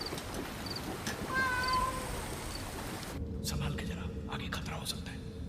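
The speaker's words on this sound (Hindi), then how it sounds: "ये तो बिल्ली है।" Cat meows in a short rising, wavering call over a steady background hiss, followed by quieter muffled sounds.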